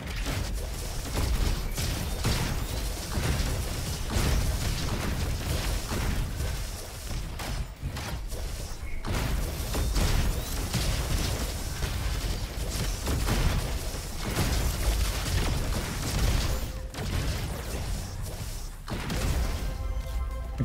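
Grenade explosions and chaotic combat in the video game Roboquest: repeated heavy booms, crashes and impacts come in a dense, almost continuous barrage, loud and close.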